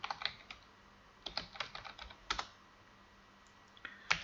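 Typing on a computer keyboard while entering database configuration details, with quiet close key clicks arriving in short irregular bursts separated by pauses and no talking.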